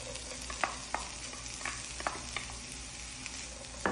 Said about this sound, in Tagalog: Sinalang ko na itong pan at nilagay ko na siya ng oil at i-add ko na itong hiniwa kong onion.